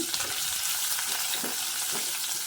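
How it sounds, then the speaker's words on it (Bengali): Shrimp frying in hot oil in a wok, a continuous close sizzle with soft stirring scrapes and a few faint pops, alone without talk. "প্রথমে আমি একটু চিংড়ি মাছটা ফ্রাই করে নেব চিংড়ি মাছটা দিয়ে দিলাম"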